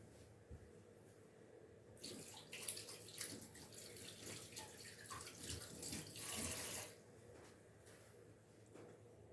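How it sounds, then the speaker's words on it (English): Hands washed under a running kitchen tap: a close, steady rush of water that starts abruptly, splashes and shifts for several seconds, then cuts off, leaving quiet. "I need to wash my hands because they're all Kendall Manis-y."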